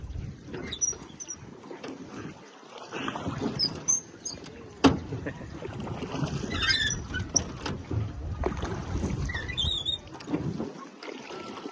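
Small boats out on a lake in central Pennsylvania, with light water splashing and paddle knocks, occasional squeaky high chirps and soft thumps close by, and no talk.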